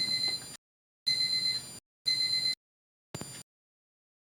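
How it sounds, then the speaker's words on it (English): A phone alarm buzzes in evenly spaced on-off bursts, three long pulses followed by a shorter one, fairly close and with no talking. "My alarm on my phone went off to let me know it's time to watch Morning Joe."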